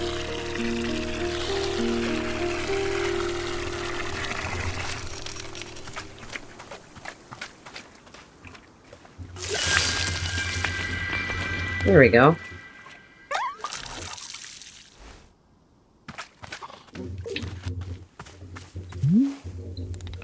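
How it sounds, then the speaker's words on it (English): Water drips and splashes as a watering can is filled and poured in a cozy garden game, soft liquid trickles broken by brief bursts and chirpy tones, with a voice speaking briefly. "Fill the watering can with water, then pour it onto your new egg."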